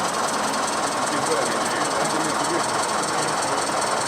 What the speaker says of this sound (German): Man braucht ja etwas Geduld bei diesem Dampfkran, weil es doch eine Zeit lang dauert.